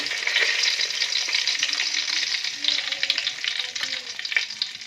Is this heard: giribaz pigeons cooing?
no